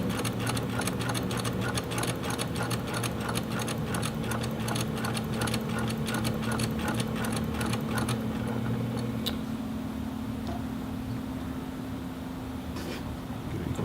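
A cover stitch sewing machine runs steadily while stitching fleece, its rapid mechanical hum continuous and close, with motor tone holding throughout and a slight change near the end.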